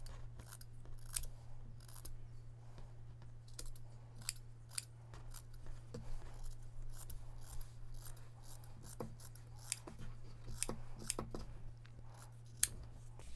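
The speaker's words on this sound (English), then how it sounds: "I'm gonna cut right here and just cut right along this hem here" Scissors snip repeatedly through the hem of a t-shirt, crisp close cuts in irregular bursts over a low steady hum, with no talking.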